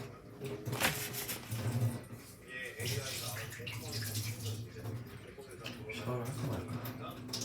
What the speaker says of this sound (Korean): 딸기를 씻고 올게요, 제가.